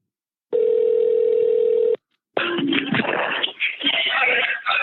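A phone call ringing out while waiting for an answer: one long steady ring tone, then a short pause, followed by a burst of louder, busier line noise and voices.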